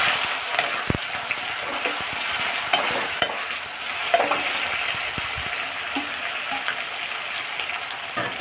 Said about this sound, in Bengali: এই সময় আমি কুচনো পেঁয়াজগুলো ছেড়ে দেবো।